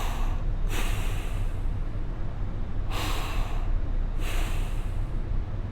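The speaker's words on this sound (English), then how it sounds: "straight into that recovery breathing where it's just nasal, straight nose to nose." Nasal recovery breathing after a workout, close and loud, with three long airy inhales through the nose spaced a second or two apart over a constant background rush.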